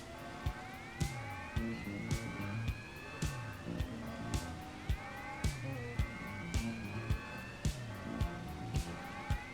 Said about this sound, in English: Can I have music plus a siren for an hour?